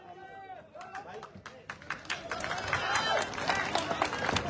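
A political rally crowd welcoming Chandrashekhar Azad with applause, rising from scattered claps into dense, loud clapping and cheering, with a voice talking over it at the start.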